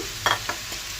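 Boiled vegetables stirred through spices in a frying pan, a soft steady sizzle broken by two or three brief scraping strokes of a spoon, close and without talk.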